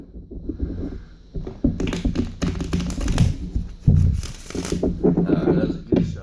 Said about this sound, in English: Let me put them back in the deck and reshuffle.